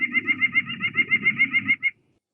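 A nuthatch delivers its song, a rapid, evenly spaced series of about fifteen clear, nasal notes, loud and close, ending abruptly, with a faint low rumble underneath.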